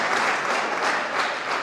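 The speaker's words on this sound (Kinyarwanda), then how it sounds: "Mwongere muhurize amashyi tubashimire." An audience at a gospel concert in Kabgayi gives dense, sustained applause, many hands clapping together in a loud, even roar with no pauses.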